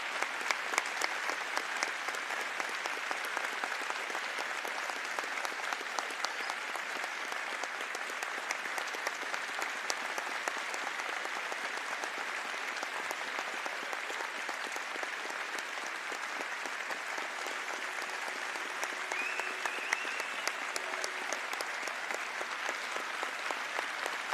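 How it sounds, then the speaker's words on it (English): A basketball arena crowd applauds steadily for a long stretch in memory of a fan, a dense, even wash of clapping heard from a distance at moderate level without pause. "We're going to pause for a little applause to remember him."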